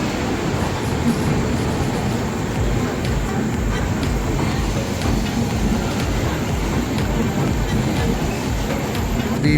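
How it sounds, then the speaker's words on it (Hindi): A passenger train arrives at a station platform in India with a continuous loud rumble and rattling of rolling carriages, steady from start to finish under ambient station noise. "तो ये आ गया दोस्तों ट्रेन।"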